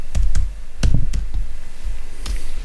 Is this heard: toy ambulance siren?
no